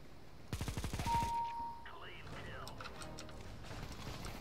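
A fast burst of light machine gun fire in Counter-Strike lasts about a second, loud and close, followed by quieter game effects and people talking.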